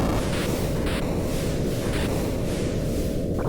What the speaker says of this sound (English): Very loud void explosion, damn